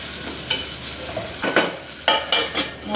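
Chopped carrot and capsicum sizzle in a hot pan, a soft frying hiss broken by several sharp scraping stirs and clinks near the microphone, with no voices.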